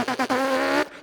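A man imitates a car engine with his voice, a short buzzing, lip-vibrating drone lasting about a second, close and fairly loud, with brief breaks at the start.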